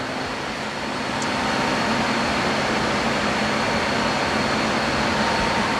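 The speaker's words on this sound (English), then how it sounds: "Get our rim clamps off before we put air in this tire." Compressed air steadily hissing into a tire mounted on a red carbon fiber wheel, a continuous broadband rush that holds at the same loud level throughout.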